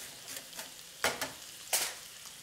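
Garlic added to onions sizzles in a pan while cooking a one-pot Greek-style chicken with olives and pasta, with a few soft fry crackles and two louder bursts of sizzle and stirring, close and without talk.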